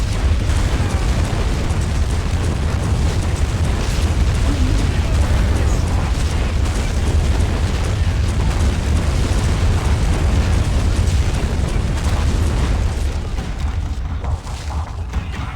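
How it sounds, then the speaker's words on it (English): Massive naval bombardment in a Crimean War battle game at Sevastopol: a dense, continuous roar of booming explosions and rumbling blasts, loud and sustained throughout, easing slightly near the end. "Massive naval bombardment."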